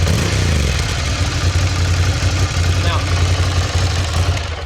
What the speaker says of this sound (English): Let's hear what it sounds like when we rev it up.